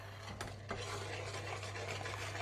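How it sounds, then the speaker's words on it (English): A ladle stirs leek and potato soup in a pot, giving soft scraping and swishing with a couple of sharper knocks against the metal near the start, over a steady low hum. "just going to stir it a little bit like that"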